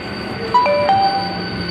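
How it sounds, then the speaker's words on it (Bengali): Train at Garifa station on the line linking Bandel and Naihati, heard from inside with a steady close rumble and a short two-tone electronic chime sounding over it. "আমরা এই গড়িফা স্টেশন থেকে ট্রেনে উঠি"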